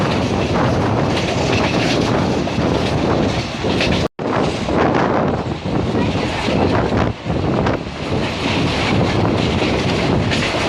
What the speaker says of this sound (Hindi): तो हमारी ट्रेन सातोना रेलवे स्टेशन को भी स्किप करके निकल गई।